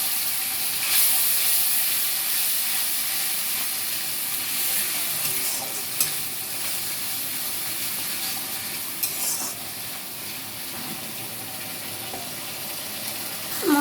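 Spice paste frying in a wok sizzles steadily as a little water is added, with stirring scrapes and bursts of hissing steam over a constant, moderately loud crackle.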